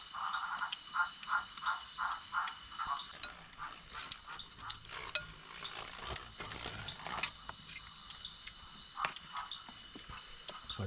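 Frogs croaking in a rainforest at night, a rapid pulsing chorus of repeated croaks in rhythmic bursts, with a constant high insect-like drone behind and a few sharper clicks standing out.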